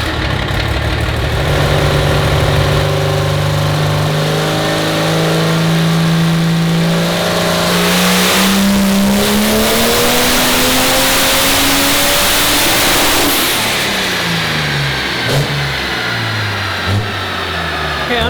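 A car engine on a dyno rises from idle into a long hard rev toward 6000 rpm, its pitch climbing steadily and loudly, then cuts out and falls back to a rough idle, with no voices over it.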